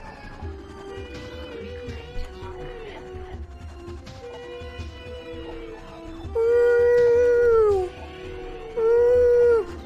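A creature in the Metroid Prime video game lets out long, dog-like howls, two loud drawn-out wails rising and falling near the end over a low rumbling game backdrop, with fainter whining calls before them.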